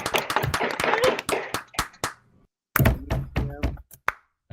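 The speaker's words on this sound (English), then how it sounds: "Everybody give him a round of applause again, please." A crowd claps in a brief burst of applause, close and lively, fading out, then a second shorter round of claps follows.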